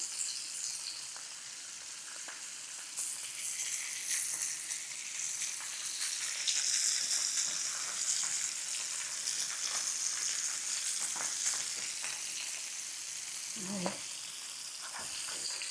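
Shrimp fry in a hot pan beside rice and yellow croaker fish, giving a loud, steady sizzle that swells as they are tossed over, with scraping and a clank near the end.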